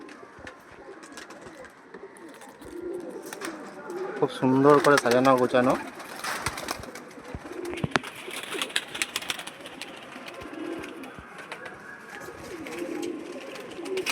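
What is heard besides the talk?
flying pigeons cooing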